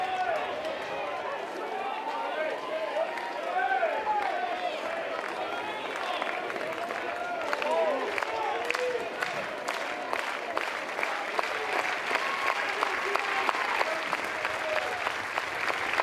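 North Carolina baseball fans cheer and clap during a college game against USC, a steady crowd roar with applause that swells slightly toward the end while a commentator speaks over it.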